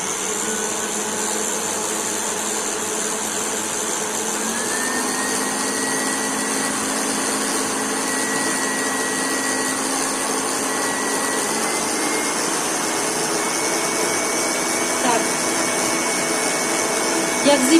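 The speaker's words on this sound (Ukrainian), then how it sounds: "Цей міксер такий, що я не буду це робити. Я включаю, щоб він збивався зразу." A steady electric mixer whips eggs with sugar, whirring continuously at a constant high pitch, a loud droning motor with faint shifts in tone as it churns.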